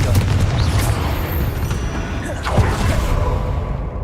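Confringo explosive fire spell cast in Hogwarts Legacy, a loud, dense rumbling blast with booming low end and crackling bursts, sustained throughout amid game effects and some speech.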